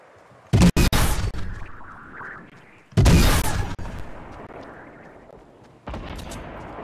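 Gunfire in the video game Fortnite: two loud, heavy blasts a couple of seconds apart, each fading in a long decaying tail, then a third shot starting near the end; no talk.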